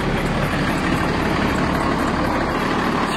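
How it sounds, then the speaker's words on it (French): A heavy diesel tractor engine idles loudly and steadily nearby, warming up after starting, a constant low rumbling chug with no pauses. "démarrer ce tracteur, puis le laisser préchauffer un petit coup"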